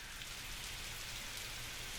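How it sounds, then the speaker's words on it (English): Rain pours down as a dense, steady hiss of drops on surfaces, constant and moderately quiet throughout, with no voices. "For days on end, the rains poured down on earth until all the ground was underwater"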